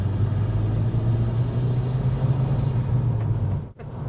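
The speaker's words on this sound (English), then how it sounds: "Turbo noises." Tuned VW Golf GTI Edition30 Mk5 on a stage 1 remap, a steady low engine and turbo drone close by, holding constant before a brief dip near the end.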